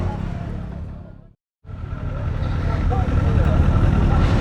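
A Kawasaki Ninja 7 Hybrid motorcycle hums along the road, briefly cutting out before its engine noise returns and swells steadily as the ride continues, close and loud. A rider talks over it.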